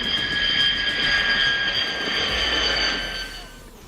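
A four-engine B-2 stealth heavy bomber flies overhead with a loud, steady jet roar and a high whining engine tone that slowly fades toward the end.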